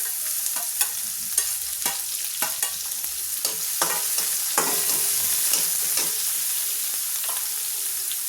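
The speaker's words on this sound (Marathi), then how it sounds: "आता बारीक चिरलेला कांदा ॲड करूया." Finely chopped onion fries in a pan for poha with a bright, steady sizzle, cut by repeated sharp scraping strokes of a spatula at a fairly regular rhythm, close and loud, with no one speaking.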